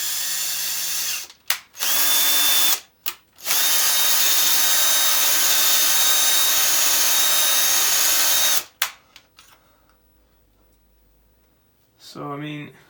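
A power drill whines loudly in several sustained bursts with brief pauses between as it drills out metal on a Ford Fiesta ST150 gear change, then stops and a voice speaks faintly at the end.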